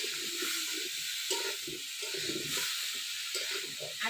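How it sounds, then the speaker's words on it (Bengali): Cauliflower and potato with salt and turmeric frying in a hot karai over high heat, giving a steady, close, hissing sizzle throughout, with someone speaking quietly beneath it. "এই যে এখন ভাজি দেবো কপিটা।"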